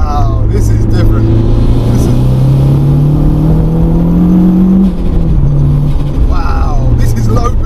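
A turbocharged 311 bhp Renault Clio 172 Cup, weighing 980 kg, spins its wheels and accelerates hard in-car, the engine note climbing loud and steady with turbo whine, while occupants talk over it.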